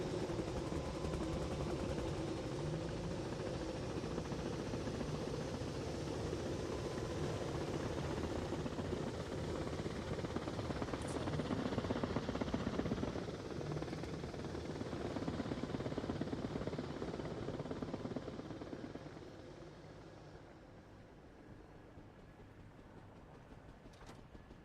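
An Apache helicopter in Arma Reforger keeps up a steady, droning rotor and engine rumble at moderate loudness for about twenty seconds, then drops to a quieter, more distant hum.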